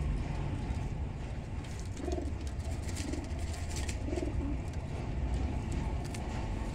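Golden pigeons coo in low, soft repeated phrases, about four short rounded calls spaced through the clip under a constant noisy background hiss.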